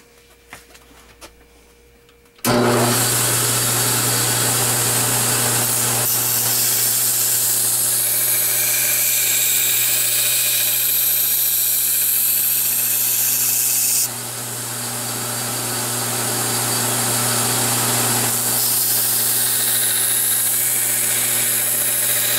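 Belt grinder running a coarse 40 grit belt against a knife blade, a loud, steady abrasive roar with a constant motor hum starting abruptly after a quiet moment and continuing without pause, dipping briefly once as pressure shifts.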